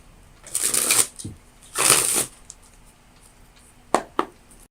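A deck of tarot cards shuffled up close in two quick riffling bursts, followed by a pause and two sharp taps as the cards are squared.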